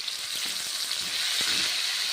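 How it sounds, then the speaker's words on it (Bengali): Chopped tomatoes with ground green chilli and ginger spice paste frying in a wok: a steady, loud, dense sizzle that runs without a break, with faint stirring scrapes underneath. "তারপর টমেটো কড়াইয়ের মধ্যে দিচ্ছি, ভেজে নিচ্ছি।"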